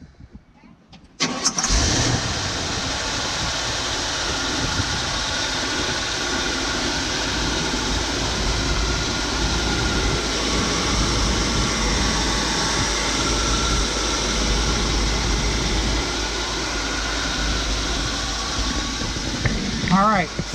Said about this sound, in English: All right, Danny, go ahead and start her up.